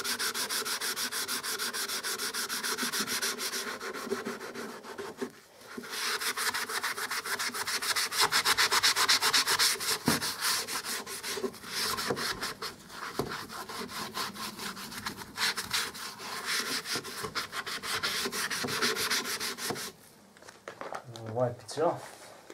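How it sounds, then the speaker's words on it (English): A scouring pad scrubs a painted table stand that has been wetted with water, making continuous loud, rhythmic rubbing strokes with a brief pause early on and a stop near the end. "using your scouring pad,"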